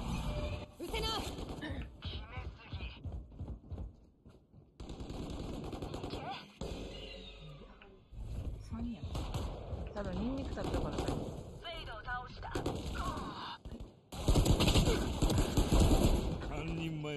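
Video game gunfire comes in repeated bursts and rapid volleys through a beginner's live stream, with a player talking over much of it and short gaps between exchanges.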